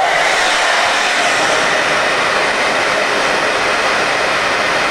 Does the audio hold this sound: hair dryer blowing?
yes